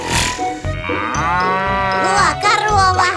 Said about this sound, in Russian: О, корова, ха!